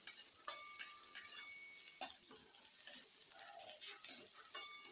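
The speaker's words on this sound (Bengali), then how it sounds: "পেঁয়াজটা প্রথমে ভালোভাবে ভেজে নিতে হবে আমাকে" Onions fry in oil for mutton do-piyaji, a quiet hissing sizzle with occasional light clinks and scrapes of a spoon against the pan.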